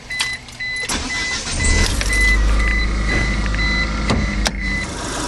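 An Eagle Summit car engine runs steadily and close by after a timing belt replacement and exhaust leak repair, giving a low, even, fairly quiet hum with a slightly low idle and a few faint clicks and tones over it.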